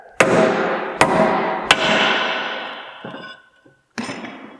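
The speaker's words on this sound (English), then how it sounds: "we're going to smack this thing with a hammer to get this to break loose from the hub" Three sharp metallic hammer strikes on the rear brake rotor of an Audi S4, knocking it loose from the hub, evenly spaced, each ringing out and decaying, followed by a couple of lighter knocks and a final hit.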